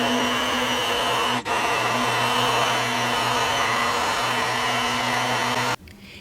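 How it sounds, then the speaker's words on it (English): An immersion blender purees red lentil soup with celery root and turnip on a stovetop, giving a steady loud motor whir with a brief dip near the start, then cutting off abruptly near the end. "in goes the immersion blender until I have the consistency I like"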